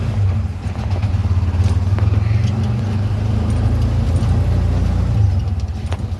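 The engine of a CNG auto-rickshaw runs in a steady, close low drone as it pulls away on a street in Sylhet, with faint traffic noise around it.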